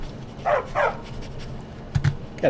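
A dog in the video game Skyrim gives two short barks, then a couple of low huffs and a final yip, moderately loud and close with no talking over it.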